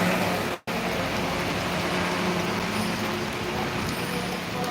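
Heavy rain falls in Buldhana district as a dense, even hiss that continues without a break, apart from one instant of near silence early on.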